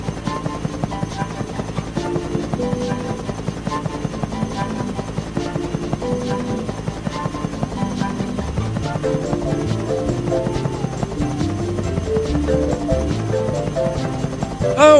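A biplane in the Thomas and Friends Trouble on the Tracks video game hums with a steady buzzing engine drone under layered in-game musical tones.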